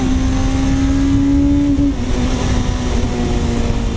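A car fitted with a Suzuki GSX-R1000 superbike engine held at about 8,000 RPM, a loud, steady high-pitched engine drone that dips slightly partway through, heard close up from inside.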